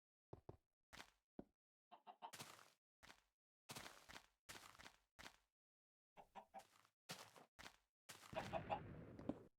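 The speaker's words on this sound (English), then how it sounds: "Oh right, chickens, did you drop any eggs?" Chickens in a video game give a run of short, separate clucks and bursts in a quiet setting, ending in a denser, louder flurry of squawking near the end.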